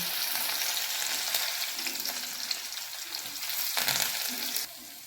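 Garlic, curry leaves and onion frying in hot oil in a kadhai, a loud continuous sizzle with crackling bursts and occasional stirring.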